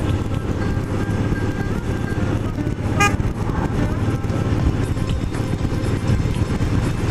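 A car horn sounds one short toot at a cyclist amid steady road traffic, heard from inside a moving vehicle.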